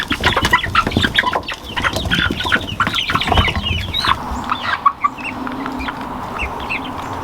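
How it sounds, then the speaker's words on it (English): Growing chicks and young roosters on a farm cluck and squawk in busy, overlapping bursts, close and lively, with a low murmur of flock noise underneath. "The chicks are getting big."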